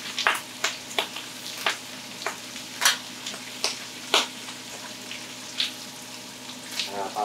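Pork for laing fries in a pan, rendering its own fat, with a light sizzle under repeated rhythmic scraping strokes about twice a second.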